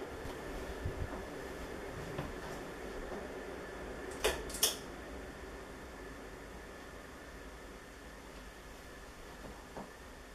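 A 1985 4 Saisons top-mount 120 cm ceiling fan runs on low speed, giving a steady, rumbling whir with a faint train-like drone and a few sharp clicks partway through.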